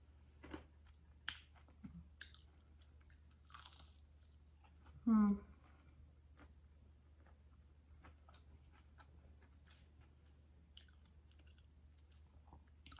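Quiet, close-up crunchy chewing of a carrot and potato fritter, with soft irregular bites and one louder crunch midway, over a low steady hum.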